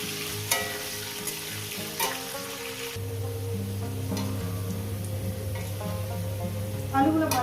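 Potatoes fry in hot oil with salt and turmeric, a steady close sizzle that thickens partway through, with occasional clinks of a utensil stirring the pan.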